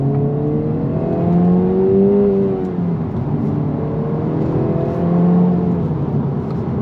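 A 2026 Acura Integra Type S engine climbs steadily in pitch toward its roughly 7,500 RPM redline, heard from inside as a smooth, continuous rising drone with layered harmonic whine and no talking.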